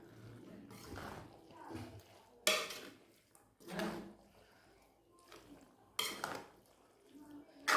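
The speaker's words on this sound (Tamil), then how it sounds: "இப்போ அடுப்பை நல்லா குறைச்சி வச்சுக்கிட்டு இந்த மாதிரி நீங்கள் கிண்டி எடுங்க." Spicy pasta stirred in a pan over a low flame, a spoon scraping through it in separate loud strokes with short quiet pauses between them, recorded up close.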